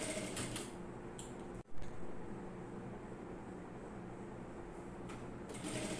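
Sewing machine stitching an umbrella-cut skirt hem, a steady mechanical whir running almost continuously with a brief stop and restart, plus faint light clicks near the end.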